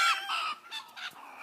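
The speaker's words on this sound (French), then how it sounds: "Alors ensuite, il y a la poule et son poussin." A hen gives a few close, quick clucks and squawks in a quiet setting, with short pauses between the calls.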